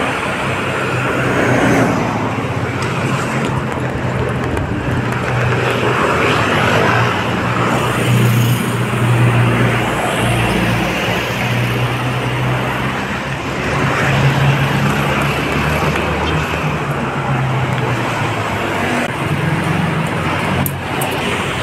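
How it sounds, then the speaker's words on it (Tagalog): Steady road traffic along a street in the Lawton area near the Esplanade in Manila, with cars and other vehicles passing continuously, a dense constant roar of engines and tires heard close and alone, without talk. "May mga sasakyan."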